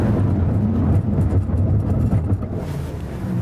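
A Lamborghini Aventador brakes hard from 60 mph on the Nardo test track, heard as a steady, loud low rumble of road and drivetrain noise that eases slightly toward the end.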